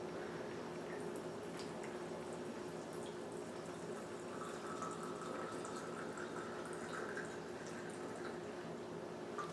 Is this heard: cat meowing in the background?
no